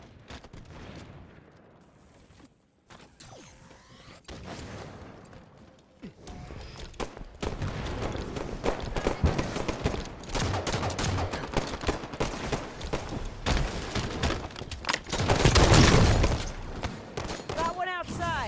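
Heavy gunfire in a competitive shooter match: after quieter scattered shots, a dense loud stretch of rapid fusillade and machine gun bursts builds up, with a strong blast-like swell near the end and voices talking over it.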